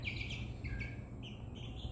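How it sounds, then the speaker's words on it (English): A fussy chick chirps in a series of thin, high tweets, some sliding downward, soft and indoors over a low steady hum. "Such a fussy bird."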